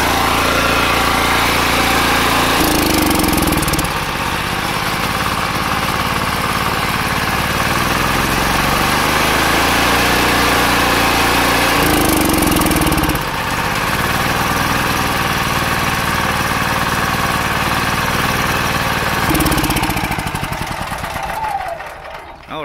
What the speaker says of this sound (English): Generator is running off of the charcoal.